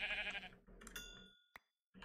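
A sheep in the Minecraft SevTech modpack gives one short bleat, followed by a couple of sharp game clicks and a moment of silence, close and fairly clear.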